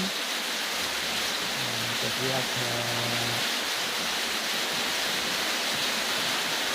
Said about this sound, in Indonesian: hujannya pun cukup deras